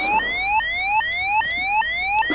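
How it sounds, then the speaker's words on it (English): A wrong-door alarm in a train video game blares on its own as a loud, repeating electronic whoop, each tone sweeping upward and then restarting about every 0.4 seconds, like a siren. "if you open the wrong doors, you'll hear an alarm that sounds like this."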